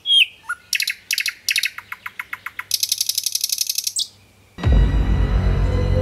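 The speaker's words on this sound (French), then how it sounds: "par exemple le chant d'un oiseau" A songbird sings in clear, bright bursts of rapid chirps and trills, a run of quick repeated notes followed by a sustained buzzy phrase, close and loud, before a sudden heavy rumbling noise cuts in.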